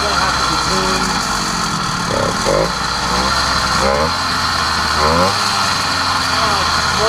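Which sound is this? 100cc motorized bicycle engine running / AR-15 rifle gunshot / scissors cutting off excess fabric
100cc motorized bicycle engine running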